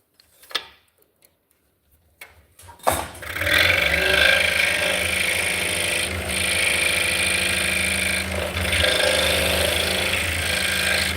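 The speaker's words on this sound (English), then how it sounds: "we're basically just cutting out a mortise" A mortise is cut in wood with a loud, continuous machine grinding and rattling up close for about eight seconds, after a few faint knocks in near silence.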